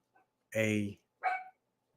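Excited barking from a pair of dogs in a home: a loud, full bark followed by a shorter, higher yelp, then quiet.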